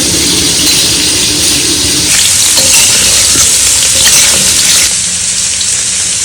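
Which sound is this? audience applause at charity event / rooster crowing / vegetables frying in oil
vegetables frying in oil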